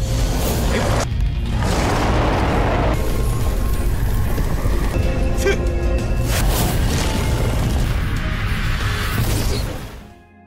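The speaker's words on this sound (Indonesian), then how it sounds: "Bentrokan antara dua serangan kuat itu benar-benar membuat ledakan yang begitu besar" A huge explosion from two powerful attacks clashing, a sustained roaring blast full of whooshes and crashing debris that stays loud and dense for about ten seconds before dying away.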